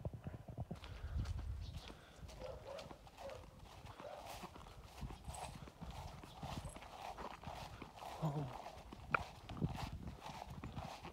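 Draft horses' hooves clip-clop on the ground in an uneven walking rhythm, fairly faint and close, with an occasional snort or soft whinny.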